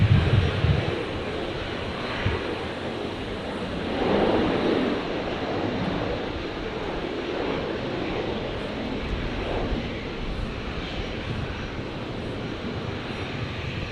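An aging Air Niugini airliner arriving from Port Moresby on runway 19 right at Brisbane, heard as a continuous distant engine rumble with a brief swell, steady throughout with no voices.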